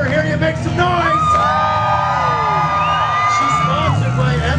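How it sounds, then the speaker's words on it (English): Crowd at a Caledonia Fair demolition derby cheers and whoops loudly and steadily, shouts and yells rising over the grandstand noise, with an announcer's voice running through it. "If you're cheering for Katie Kirk, female driver, let her hear you make some noise."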